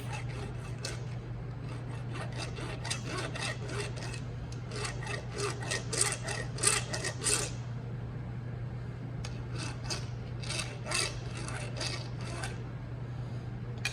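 Hand file rasping a burr off the edge of a steel die, a series of quick dry strokes in bursts with a short pause midway, close and fairly quiet over a steady low hum.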